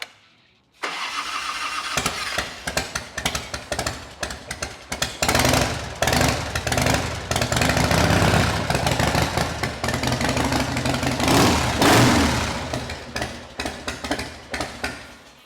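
A 1989 Harley FXR motorcycle engine cranks and fires, then runs loud and close with a choppy, uneven idle and sharp revving bursts that pulse to the end.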